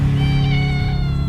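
A single drawn-out cat meow, close and clear, rising slightly and then trailing off over about a second.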